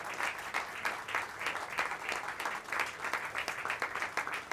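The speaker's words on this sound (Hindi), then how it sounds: "एक बार फिर आप इनके लिए तालियां बजा दीजिए।" Audience applause at a mushaira poetry gathering in Delhi, a faint but steady patter of many hands clapping for over four seconds in a hall.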